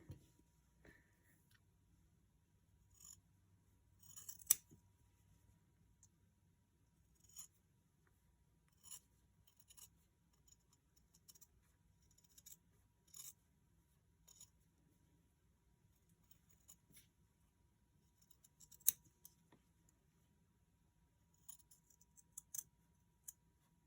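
Scissors snip through fabric pieces for a fox stuffed toy in short, scattered crisp cuts, some single and some in quick pairs, close and fairly faint against a quiet room.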